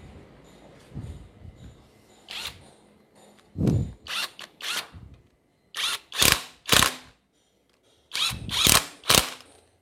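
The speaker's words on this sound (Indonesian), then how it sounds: "Pakai kunci impact sekalian, yakin kalau kenceng." Impact wrench driving 12 mm bolts while a Toyota Innova gasoline engine is being assembled, heard as short, loud buzzing bursts in quick clusters of two or three, separated by brief pauses and a few dull knocks, with no talking.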